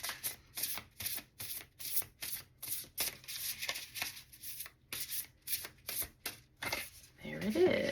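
Tarot cards being shuffled for a card reading, a long run of quick rhythmic riffling bursts, close and crisp, with a voice talking briefly near the end.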